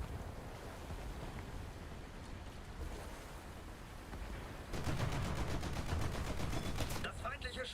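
Naval guns on a German ship fire in a naval video game. Rapid repeated reports fill the second half, over a continuous wash of sea and engine noise.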